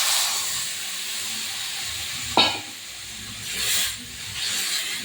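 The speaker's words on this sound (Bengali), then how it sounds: "আমি এবার জল দিয়ে দেবো।" Water splashed into a hot pan of oil tempered with garlic for a potato curry, a loud steady hiss and sizzle with a sharp burst as the water hits, then bubbling simmer.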